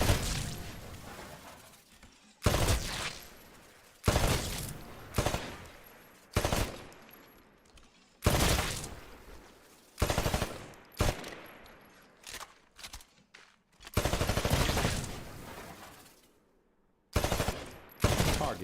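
Weapons fire at shooting range targets in the Titanfall video game, with repeated loud bursts of rapid automatic gunfire. The bursts come every two to three seconds and are separated by short quiet gaps.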